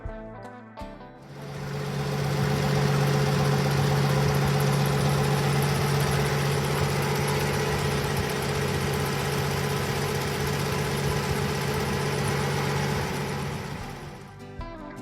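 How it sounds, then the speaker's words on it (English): A vintage sedan's 235 inline-6 engine, paired with a 2-speed Powerglide transmission, starts and settles into a steady, even idle with a low droning hum that holds for several seconds and then cuts off. "by a 235 inline-6 engine, paired with a 2-speed Powerglide transmission, it drives smoothly and stops reliably"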